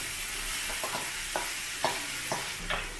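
Raw banana sizzling as it fries in a pan with onion and turmeric, stirred by a utensil that scrapes at irregular intervals over a constant frying hiss, close up and with no speech.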